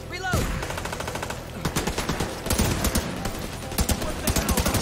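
Rapid automatic gunfire from a firefight in the video game The Division 2, with dense bursts and single shots crackling loudly throughout and a voice briefly heard early on.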